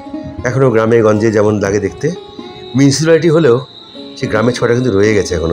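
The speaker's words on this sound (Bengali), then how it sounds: "একদম ঝিঝি পোকার ডাক শুধু" Crickets chirp in a steady high-pitched drone beside the Ganges at dusk in a village setting at Azimganj, Murshidabad, continuous beneath someone talking close up.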